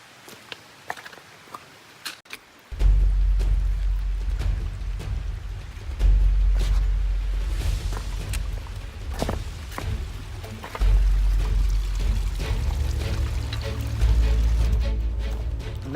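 Water rushing and splashing in a mountain creek on Cold Springs Gap Trail in the Great Smoky Mountains, close and steady, with footsteps sloshing through the stream and a few sharp knocks.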